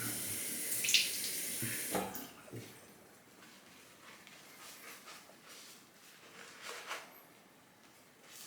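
Water runs from a tap into Musgo Ach Brito shaving soap lather worked with a Semogue 1250 boar brush, a close, brief splashing burst followed by quieter sink and lather noise.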